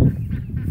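Ducklings and chicks call inside a $50 homemade chicken coop, with a brief, close burst of honking, fowl-like chatter filling the short moment.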